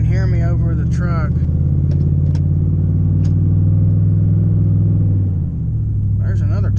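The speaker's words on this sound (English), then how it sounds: "I don't really know how well you can hear me over the truck." A truck engine rumbles steadily and close by, a deep continuous drone that runs under a man's speech and eases off briefly near the end.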